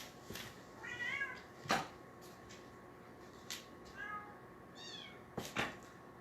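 A cat meows several times, soft and slightly distant, with a few short mews spaced out over quiet background noise.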